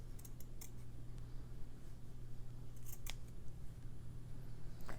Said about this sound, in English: I'm just going to pull each piece straight and just trim it right to the edge